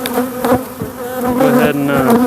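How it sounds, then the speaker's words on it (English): Honeybees buzz in a dense, steady drone close around a beekeeper's face while a hive is worked, the hum swelling and dipping with a few nearer passes. "Moderate number of bees up on my face, but they don't seem overly agitated."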